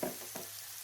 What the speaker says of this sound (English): we're going to start with sauteing our onions.